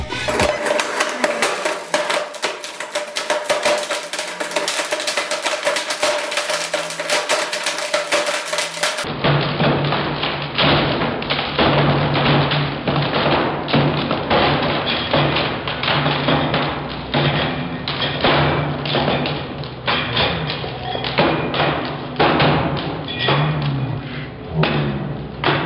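A Blendtec blender grinds a TAC Drive USB stick, giving a continuous loud rattling, thudding churn with rapid knocks as the pieces are smashed around the jar.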